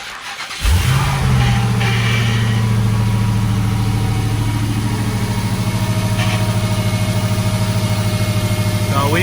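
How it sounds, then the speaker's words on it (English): A Dodge SRT Hellcat engine cold-starts, cranking and catching after a brief pause, then settles into a loud, steady idle with a low rumbling drone, just after a new power steering pump install. "a quick cold start now that the power steering pump is in"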